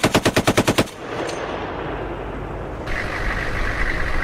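An M2 Browning machine gun fires in US military training, with a rapid burst of about eight loud, evenly spaced heavy shots followed by a lingering roar and rumble.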